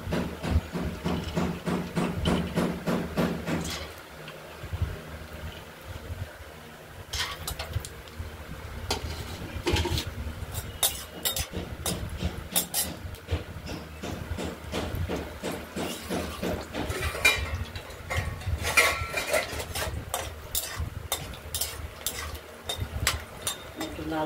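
Peanuts frying in a pan, a steady sizzling hiss broken by quick scraping and stirring clatter, close and fairly loud.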